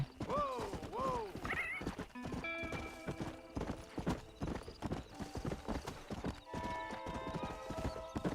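A horse in the Red Dead Redemption video game whinnies twice and then gallops, its hooves clip-clopping in quick uneven rhythm, close and fairly loud, with faint game sounds behind.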